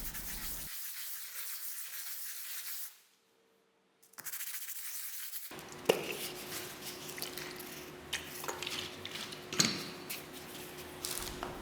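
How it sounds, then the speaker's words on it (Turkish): Rough scratchy rubbing of coarse sandpaper on knife handle parts, a short pause in the middle, then uneven sanding strokes resume with occasional knocks. "Yapışacak tüm parçaların kaba bir zımpara ile pütürlü hale getirilmesi lazım."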